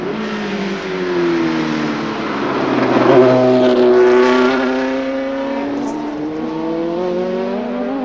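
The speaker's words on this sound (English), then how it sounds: "Saloon car star David Leslie reunited with his 10-year-old Ecosse Le Mans car" A ten-year-old Ecosse Le Mans race car's engine roars past at a historic racing event, rising and falling pitch as it accelerates by, loud and close, then fading into a steady distant drone.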